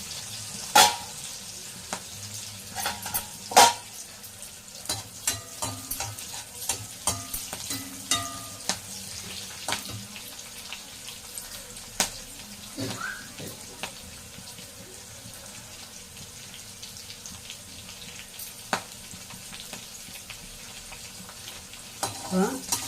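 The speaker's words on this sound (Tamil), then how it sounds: "அந்த பிரண்டை கொஞ்சம் நல்லா வதங்கட்டும்." Oil sizzles steadily in a pan while pirandai (veldt grape) stems are stirred, with sharp clacks of a spatula against metal and a faint trickle of water in the background.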